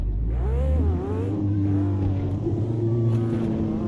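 Corvette race car engine in the Automobilista 2 racing game, a loud continuous roar with rising and falling revs as the car accelerates out onto the track, steady and close throughout.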